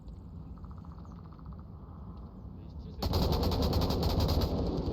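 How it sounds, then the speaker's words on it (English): Rapid gunfire in the VR shooter game Onward during a competitive match, a loud continuous burst that begins partway through after quieter background noise and muffled voices. "Hasbanger taking shots from Jason"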